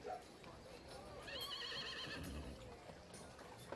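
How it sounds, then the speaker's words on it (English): A horse heard from outside through an open window in a tabletop game session lets out a faint, quavering whinny in the middle of the stretch, while people talk over it throughout. "Apparently, there's a horse in the house."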